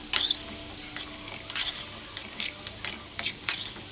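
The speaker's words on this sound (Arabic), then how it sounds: "انا هنا نقلت الخضار، اديت له تشويحه زياده" Vegetables sauté in a pot with a faint, steady sizzle as a utensil stirs them, giving repeated scraping clinks every half second or so.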